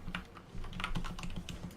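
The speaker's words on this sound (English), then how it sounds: "Nice fucking keyboard, Guru." Rapid clatter of a computer keyboard being typed on during a Guild Wars 2 gaming session, steady clicking keystrokes close up over a faint background game hum.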